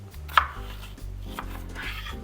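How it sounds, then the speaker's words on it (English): A knife slicing cucumbers into quarters on a cutting board for pasta salad, a few close, soft chopping strikes against the board. "now what you want to do with these cucumbers is you want to quarter them"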